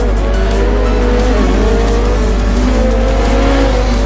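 Race cars in the video game Forza Motorsport 4 roar continuously at close range with loud, sustained engine drone, shifting pitch and tire squeal as they corner.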